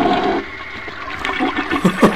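A toilet flushes in the horror video game Paranormal, a loud rushing and gurgling of water that surges and swirls for a couple of seconds with no talk over it.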